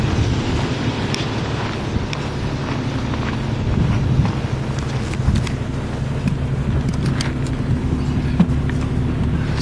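A vehicle driving in off-road mode, a steady low engine and road rumble with wind noise and occasional knocks and rattles, continuous and fairly loud from inside the cabin.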